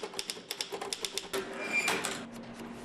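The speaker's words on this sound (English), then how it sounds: "our photojournalist Bill Long gave the 1953 East German Rheinmetall typewriter a spin, writing a little 6ABC note for us" A 1953 East German Rheinmetall manual typewriter typing a note, keys striking in a fairly steady rapid rhythm with louder clacks and a short burst near the end, close and alone with no talk.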